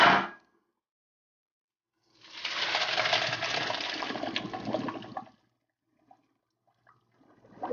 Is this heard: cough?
no